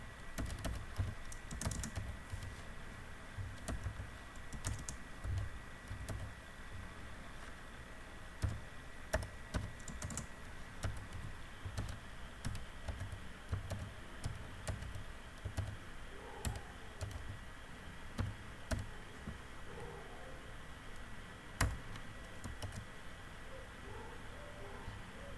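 Steady typing on a computer keyboard while writing code for an LED chaser on a PIC16F877A microcontroller, with quick irregular key clicks and occasional louder keystrokes over a low room hum throughout.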